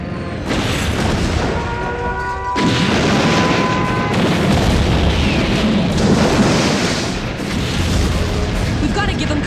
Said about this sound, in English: All batteries, fire!